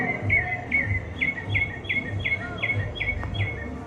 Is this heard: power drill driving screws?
no